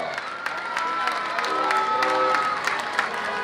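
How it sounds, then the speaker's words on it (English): Outdoor crowd at a hometown street parade clapping and cheering, a steady wash of applause with scattered shouts and whistles; a voice talks faintly underneath. "A big round of applause, ladies and gentlemen, for Wish Upon a Star"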